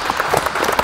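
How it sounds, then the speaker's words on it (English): Brief burst of crowd applause for a poker player being introduced at a final table at a casino tournament, a dense patter of clapping heard for under a second. "Let's give Neil a round of applause in seat 8."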